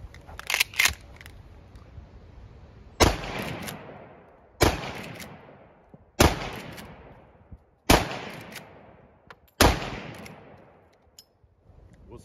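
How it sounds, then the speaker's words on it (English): Cutdown Model 94 lever-action rifle fired five times in fairly quick succession outdoors, each loud sharp crack followed by a decaying echo, with lever clicks between shots and no speech. "I've loaded the magazine with 5 rounds, and I'll shoot relatively fast just so you can see what's going on"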